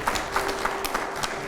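A studio audience at a televised Hindi political interview claps in a steady, fairly even rhythm of roughly three claps a second, moderately loud and close, with no talking over it.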